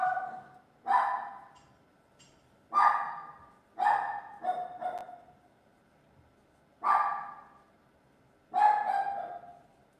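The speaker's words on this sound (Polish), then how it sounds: "Ja bardzo przepraszam Państwa za to szczekanie" A dog barks repeatedly indoors, about seven sharp barks spaced irregularly, moderately close, with no talk over them.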